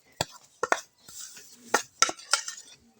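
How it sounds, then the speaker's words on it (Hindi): Spices for a homemade Gulzar-style biryani masala powder being mixed by hand in a bowl, with several sharp scraping and clinking strokes of a spoon at irregular intervals, close and moderately loud, no talking. "गुलजार का स्पेशल बिरयानी मसाला जो है अच्छे से इसको मिक्स करेंगे"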